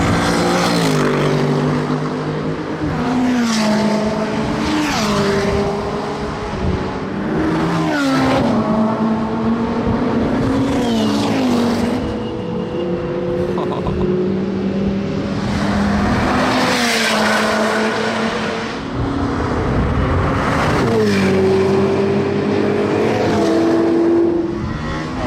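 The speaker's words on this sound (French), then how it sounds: "Impressionnant le bruit du V12 de la 812, même en arrivant de loin." A Ferrari 812 V12 engine screams around the Paul Ricard race circuit, loud and high-revving with repeated rising gear pulls and shifts, passing by amid other cars at speed.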